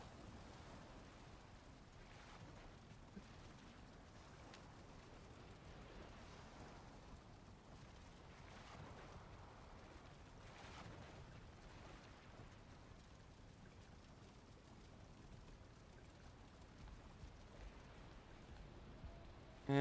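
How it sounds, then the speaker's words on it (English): Rain falling in the video game Valheim, a faint, even wash of patter and drizzle running continuously without a break, quiet and distant, with no voices over it. "And it's raining again."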